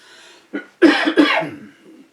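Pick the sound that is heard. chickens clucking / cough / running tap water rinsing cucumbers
cough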